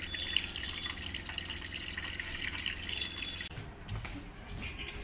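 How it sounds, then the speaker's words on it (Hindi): Water fills steadily from an RO water purifier machine, a continuous hissing splash close by, with a clunk and a change in the flow near the end. "ये आरओ मशीन है, इसमें से पानी भर रही हूँ"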